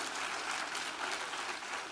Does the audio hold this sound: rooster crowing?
no